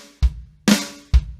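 Drum kit hits in a slow beginner pattern: a deep bass drum thump, then a snare flam with a bright rattling crack, then another bass drum, each strike separate and clear with no talking.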